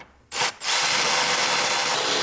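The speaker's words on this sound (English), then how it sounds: "let's tighten these down" A power tool drives bolts on BMW F30 seat rails: a short burst, a brief pause, then steady loud whirring close up.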